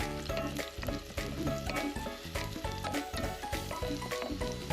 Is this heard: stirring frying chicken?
yes